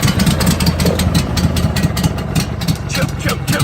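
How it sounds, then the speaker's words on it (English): A Briggs and Stratton small engine, choke pulled fully out with a little throttle, runs steadily and loudly close by, a dense continuous mechanical drone with rapid rhythmic firing throughout. "Let's see if this Briggs will start."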